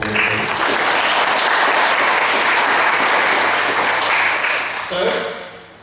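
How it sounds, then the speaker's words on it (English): A school presentation-day assembly audience applauds, loud sustained clapping from a large crowd filling the hall, tapering off near the end. "So can we give them a round of applause,"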